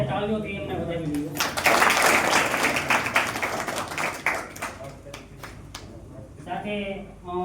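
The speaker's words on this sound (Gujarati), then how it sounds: "આપણે તાળીઓથી એમને વધાવી દઈએ" An audience at a party office opening in Palitana claps to welcome visiting saints, rising into a dense round of applause after someone speaks, then fading as his voice returns over it.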